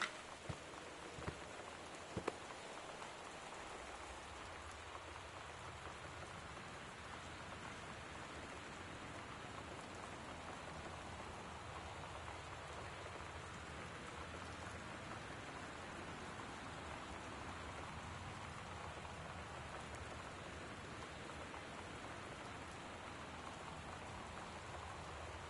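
Heavy, torrential rain pours steadily in the video game Gone Home, a dense continuous hiss of falling water with no letup, loud and close throughout.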